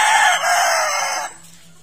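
A brood cock rooster at a breeding farm lets out one loud, close crow that lasts over a second and then cuts off, with faint quiet background afterward.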